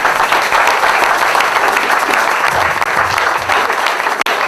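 A church congregation applauds, sustained dense clapping from a crowd filling the room, loud and continuous with a faint voice beneath.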